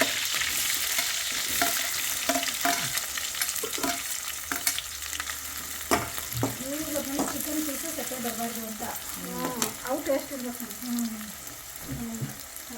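Hot oil sizzles and crackles steadily as a tempering fries, with stirring clinks and soft bubbling throughout.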